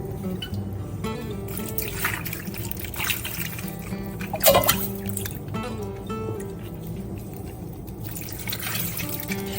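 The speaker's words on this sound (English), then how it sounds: "we're just going to pour it over the iced cucumbers" A home-made pickling brine of salt and water is poured over iced cucumbers, giving a steady, close liquid trickle and splash with faint background noise throughout.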